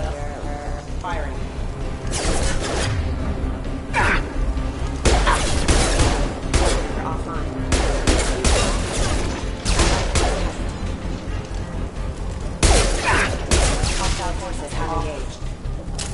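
Dense bursts of sci-fi gunfire in Mass Effect 2 aimed at security mechs, rapid volleys and impacts stacked over loud battle noise, with clatter between shots.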